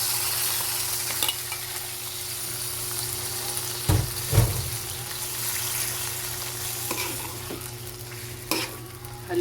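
Pork sizzles in a pan with onion and garlic, a steady close frying hiss broken by a few scraping and clattering stirs of the spoon, with no voices.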